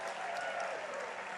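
Baseball crowd applauding a fan's catch in the stands, a brief, even burst of clapping and cheering heard from a distance across the ballpark.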